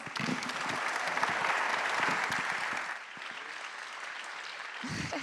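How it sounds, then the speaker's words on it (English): Audience at a Global Citizen NOW panel on funding human rights breaks into sustained applause, dense and steady for about three seconds before thinning to scattered clapping. "Please, let's give them a round of applause."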